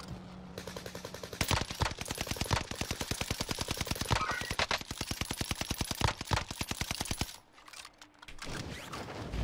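Automatic weapon fire in the video game Warzone: long, fast, loud bursts of rapid shots running almost continuously, then breaking off briefly before resuming.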